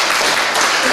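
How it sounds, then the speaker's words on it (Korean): Applause breaks out in a church congregation during a worship service, a dense, steady wash of clapping lasting about a second, loud and close, with some voices mixed in. "우리 박수 한번 하겠습니다"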